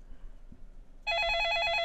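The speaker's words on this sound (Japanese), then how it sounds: "電話を開くと同時にまた電話のベルが鳴った。" In the Japanese video game Machi, a telephone bell suddenly starts ringing after a near-silent second and holds as a loud, sustained electronic ring.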